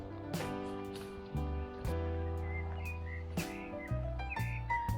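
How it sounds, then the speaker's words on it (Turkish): Birds sing outdoors in nature near the Harbiye waterfalls, a few clear chirps and whistled notes over a sustained tonal background. "Kuş sesleri."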